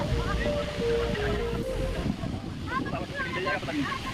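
A constant rushing roar of heavy falling water from Vasudhara Falls near Mana village fills the scene, loud and steady, with faint chirps and a voice briefly audible over it.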